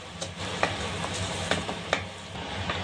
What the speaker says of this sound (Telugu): ఇలా సిమ్లోనే పెట్టుకొని దీన్ని బాగా కొద్దిసేపు వేపుకోవాలి ఫ్రెండ్స్